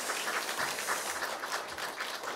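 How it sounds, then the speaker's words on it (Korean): Applause from a church congregation at an anniversary service, a soft, continuous patter of many hands clapping, heard faintly and at a distance throughout the brief moment. "큰 박수로 격려해 주시면 고맙겠습니다."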